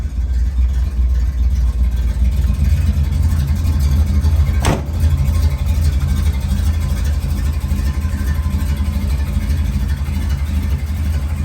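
A 1972 Chevrolet C10 Cheyenne short-bed truck with a 350 V8 small-block engine running steadily, a loud, deep, continuous rumble with one brief sharp click partway through.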